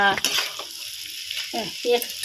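Chow mein noodles hit a hot wok with vegetables and egg, a short sizzling hiss with a few stirring clatters, up close, with a voice briefly heard.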